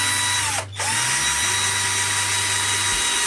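A cordless drill drives screws into a wooden birdhouse with a loud, close, steady whine that dips briefly in pitch near the start.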